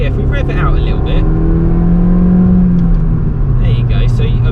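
Suzuki Swift Sport engine revving up from idle, a loud close rise and fall in pitch that holds steady before easing back, with a steady low drone throughout and some voice-like sound faintly over it.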